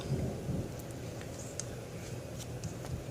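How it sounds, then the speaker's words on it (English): Low thunder rumbles faintly beneath a soft rain-like hiss, with a few light ticks and clicks scattered on top, no talk. "Ooh, you hear that thunder?"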